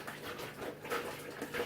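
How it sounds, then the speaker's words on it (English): Water sloshes as it is shaken inside a wine juice container to rinse out sediment, giving faint, uneven splashing bursts with no talk over them. "Just shaking it to get the sediment and any last bits of juice."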